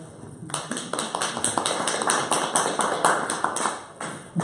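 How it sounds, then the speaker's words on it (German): Applause for assistants at a German satire show, a scattered run of individual claps, fairly close and moderately loud, settling into an irregular rhythm after a quiet start and fading near the end. "Applaus für meine Assistenten."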